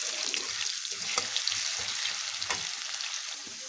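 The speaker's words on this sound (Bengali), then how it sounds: "এবার আলুটা ভাজা ভাজা করে নিব।" Potato strips fry in oil with a continuous close sizzle and light spitting crackles, with occasional faint stirring scrapes and no voices.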